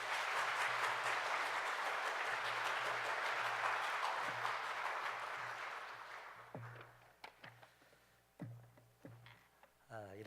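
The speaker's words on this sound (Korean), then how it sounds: "우리 최 목사님 나오실 때 크게 박수로 우리 한번 환영하겠습니다" A church congregation at a special early-morning prayer service applauds with full, sustained clapping for several seconds, then it thins out to a few scattered claps and knocks.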